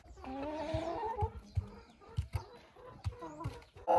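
Hens and roosters cluck in a crowded home coop holding several breeds, including Liven chintz and silkie crosses, with a dense overlapping chorus of close, repeated clucks and squawks and some louder calls near the end.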